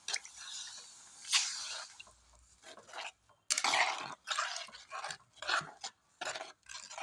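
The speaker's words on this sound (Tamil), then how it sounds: "புளி கரைச்சி வச்சுருக்கேன், அதை ஊற்றி விட்றேன்." Dissolved tamarind water is poured into a simmering elephant yam curry in a pan, making wet splashing and dripping bursts broken by brief pauses, close and moderately loud, with no talking.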